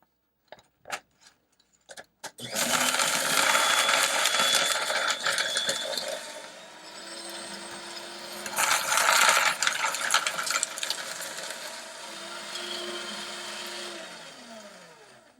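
Amazon Basics 12-sheet cross-cut paper shredder: a few clicks, then loud grinding motor whirring as a sheet feeds through, with surges and dips before the motor runs on briefly and winds down.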